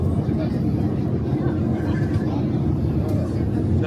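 Steady broadband roar of an airplane cabin in flight, banking at around 9,200 feet, constant and close throughout with no voices over it.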